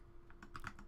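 Quick, faint keystrokes tap on a computer keyboard in a short, uneven burst of a few presses while chatting in the online game Mabinogi.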